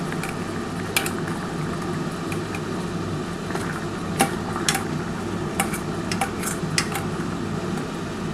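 A lid comes off a pot of steaming raw catla fish cooking on a low gas flame, with a few light metallic clinks over a steady hiss and hum of the kitchen.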